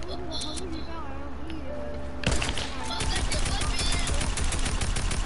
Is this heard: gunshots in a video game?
yes